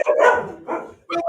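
A dog gives several close, loud barks in quick succession, with a brief gap before the final bark.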